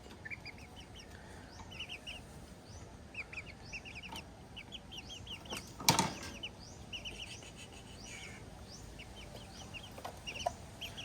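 A silkie chicken clucks in short, scattered bursts across a steady outdoor background, with one louder flutter or rustle midway; the clucks sound moderately close but soft.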